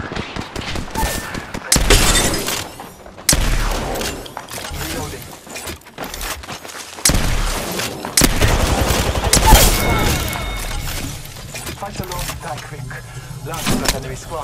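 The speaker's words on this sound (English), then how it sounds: "The enemies are shooting at me." Rapid bursts of gunfire and sharp impacts from an Apex Legends firefight, loud and repeated in clusters with short pauses between volleys.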